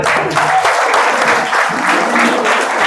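An audience at a village general knowledge competition gives loud, continuous applause for children on stage, dense clapping filling the whole stretch.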